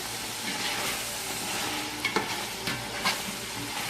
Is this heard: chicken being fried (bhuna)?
yes